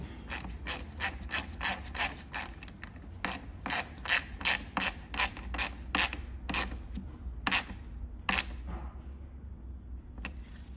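A ratchet tightens a part during a headlight replacement on a 2015 Jeep Grand Cherokee 3.6L V6, with rapid rhythmic clicking bursts repeating steadily, close and fairly quiet.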